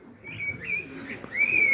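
Young pigeons in a loft aviary, some just weaned, give soft repeated squeaky chirps and thin whistles nearby, a steady run of brief calls rising louder at the end.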